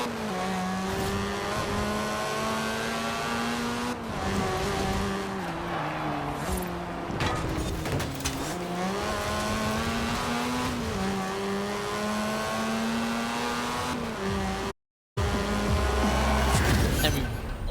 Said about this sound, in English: It's wheel spinning in first gear, but in second gear it's not bad at all.